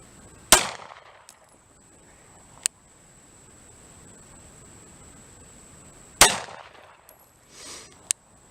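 A G43 pistol fires sharp, loud shots during a harsh-environment field test: one crack near the start, a smaller snap, another crack about six seconds later and a softer thump near the end, with quiet gaps between.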